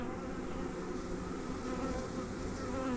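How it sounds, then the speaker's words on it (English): Honeybees fanning at the entrance of a hive after a new queen is introduced, a steady dense buzzing hum that holds close and even throughout with no talking. "there's like some bees are fanning now"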